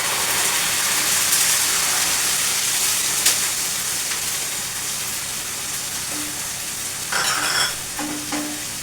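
Onion, garlic and ginger paste frying in hot oil for a Bengali-style green banana kofta curry, a steady dense sizzle with a few stirring scrapes and clinks toward the end, close and loud, no voices.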